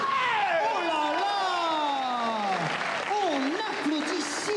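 An audience at the French comedy show Les Robins des bois applauds, a steady bed of clapping beneath loud, sliding, wailing vocal sounds that swoop up and down throughout.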